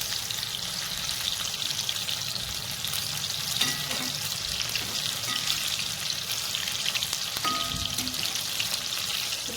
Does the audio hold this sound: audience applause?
no